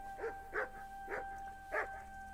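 A dog in the PS4 game Kingdom Come: Deliverance barks four times at uneven intervals, mid-distance, over a faint steady musical drone.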